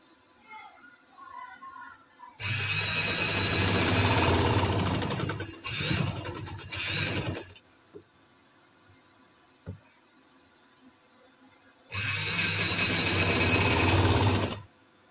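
A sewing machine runs loudly as it stitches a kameez. It sounds in two long bursts of rapid mechanical chatter, separated by a quiet stretch with a few small clicks.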